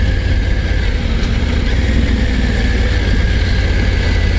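A 2024 Triumph Tiger 900 GT Pro motorcycle engine idling, a loud, close, steady low rumble with a constant hum on top, holding even throughout with no voices.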